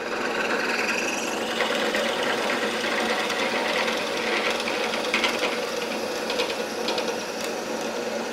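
Steady scraping, grinding drill noise biting into wood, continuous and close, with a dense rasping texture and no speech.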